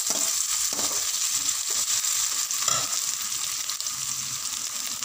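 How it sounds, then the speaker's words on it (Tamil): Onions and ginger garlic paste sizzling and frying in a pan while being stirred, a steady close crackle with occasional scraping stir sounds. "நல்லா கலக்கிட்டுக்கலாம்."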